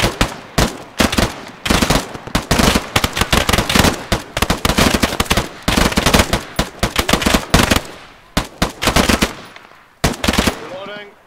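Rapid automatic gunfire and repeated shots crackle loudly and almost continuously during a team skirmish game at Cancon, with dense bursts overlapping and brief pauses near the end, while players' voices come through underneath.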